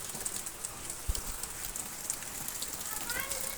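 Steady rain falls on a farm, a dense even patter of drops hitting surfaces with occasional louder taps, continuous and moderately quiet.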